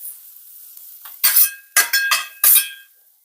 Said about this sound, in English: I've shoved the peppers and mushrooms off to the side a little bit.